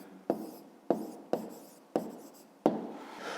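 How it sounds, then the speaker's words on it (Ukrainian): A pen writing an answer by hand on paper in a fifth-grade maths exercise: five distinct scratching strokes, each a sharp onset trailing off, close and clear with no talk. "Пишемо відповідь."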